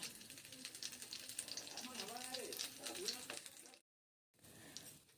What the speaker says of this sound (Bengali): তেলের সঙ্গে গোটা জিরে কালো জিরে ভেজে নিচ্ছি